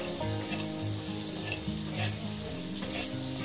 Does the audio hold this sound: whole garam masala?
yes